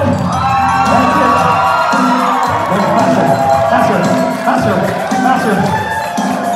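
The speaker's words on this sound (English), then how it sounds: "The more you cheer, the faster they milk" A live hypnosis show audience cheers and shouts loudly and continuously, a dense crowd roar with whoops and children's shouts, while a man urges them on over the top.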